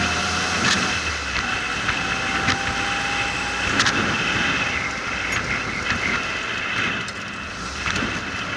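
A Ford GPW jeep drives along with its engine working through a downshift, a steady, loud, broadband road and engine roar lasting throughout, with scattered knocks and rattles on top.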